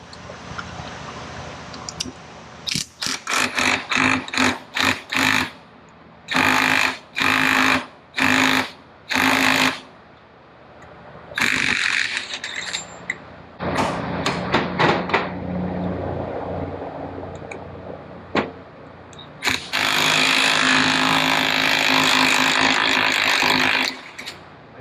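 Impact or power tool removing a nut from a Ditch Witch transmission yoke, loud close bursts of rattling whirring in repeated short pulses, then longer runs and a final sustained burst.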